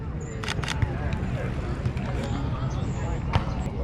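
A Sony a7iii camera shutter set to a slowed shutter speed fires a few sharp clicks during street photography in South Beach, faint under steady outdoor noise and nearby voices.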